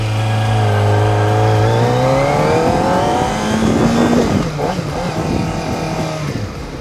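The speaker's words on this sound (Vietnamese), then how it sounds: "các bạn nghe cái tiếng hầm hố của cái xe bốn máy này thôi" A Kawasaki ZX25R four-cylinder motorcycle revs hard indoors in a cramped storeroom, its high-pitched engine climbing steadily then dropping back and settling into a lower, rougher idle, loud and close throughout.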